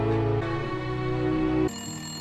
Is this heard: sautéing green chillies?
no